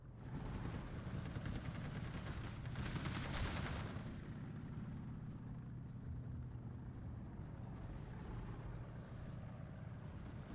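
Artillery fire in the real-time strategy game Steel Division 2, heard as a dense, rumbling barrage with a louder burst of blasts early on, settling into a steady low roar of battle noise with no talk.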